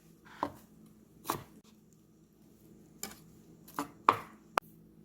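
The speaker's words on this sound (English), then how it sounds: "Now thinly slice your purple cabbage." A knife thinly slices purple cabbage on a cutting board, six separate crisp chops spaced irregularly in a quiet kitchen, close and alone without speech.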